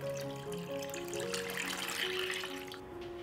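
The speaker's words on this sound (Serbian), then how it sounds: "Sipat ću vodu u šerpu do visine poklopca." Water pours steadily from a tap into a cooking pot that holds glass jars on a cloth, with a continuous rushing flow and some ringing tones over the full length.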